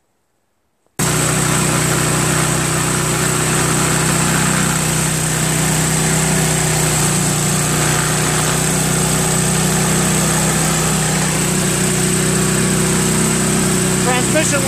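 A Craftsman 5HP two-stage snow blower with low compression runs steadily after a brief silent start, its small engine droning close and loud at an even pitch throughout.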